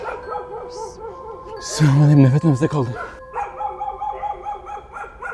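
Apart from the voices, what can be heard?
dogs barking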